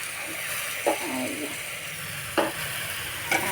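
Tomatoes sizzle in hot oil in a pan for a small fish curry, a steady close frying hiss broken by a few brief stirring scrapes.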